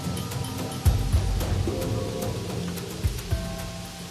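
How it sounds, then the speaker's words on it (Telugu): Rain falls steadily in an animated story scene, a continuous hiss with a few heavier thumps and drips standing out briefly over it. "వర్షం పెరుగుతోంది."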